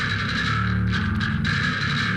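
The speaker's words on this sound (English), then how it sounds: "The other bass sounds like this." A second bass guitar track from a metal band's song has a clanky, bright, metallic attack over a growling low end. It plays a short, close riff alone, with no speech.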